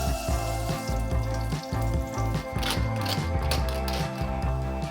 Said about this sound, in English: Flip the steak over and baste well with the beautiful garlicky herby butter